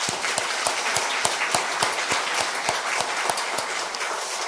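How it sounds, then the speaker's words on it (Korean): A church congregation claps in warm farewell for a departing deacon, a steady wash of many hands with sharper individual claps standing out, fairly close and continuous throughout with no talking. "환송의 박수를 보내시겠습니다"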